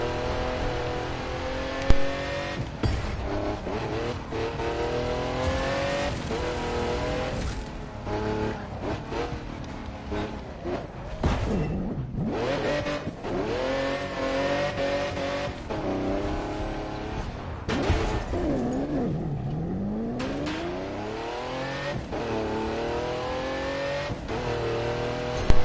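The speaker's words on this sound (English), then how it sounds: "let's just enjoy the nice sound of the 1992 Bugatti" A 1992 Bugatti sports car engine in the video game The Crew 2 revs and roars continuously, pitch climbing and dropping through gear changes, loud and close, with occasional tire noise.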